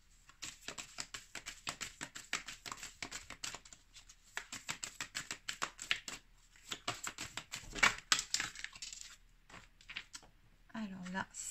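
Tarot cards handled and drawn on a table, a rapid run of close papery flicks and shuffles in bursts, a short pause, then a few final card taps.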